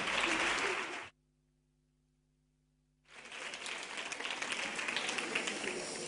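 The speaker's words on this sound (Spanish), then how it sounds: "vamos a darles un fuerte aplauso" An audience claps at a Spanish education talk on early literacy, a dense burst of applause for about a second, then a two-second hush, then the clapping resumes, fuller and sustained to the end.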